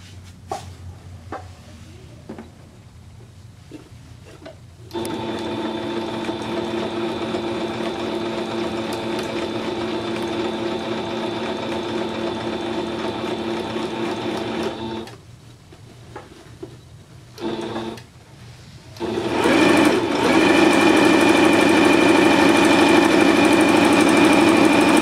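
A sewing machine stitches down a dress overlay for a homemade sweet sixteen gown, running in long steady whirring bursts with short pauses between them and a louder, faster final run.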